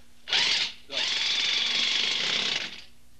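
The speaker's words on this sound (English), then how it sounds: "You go in with the wrench until I tell you to stop." A power wrench driving tire bolts on a tire playground, two loud close whirring bursts: a short one first, then a longer sustained run after a brief pause.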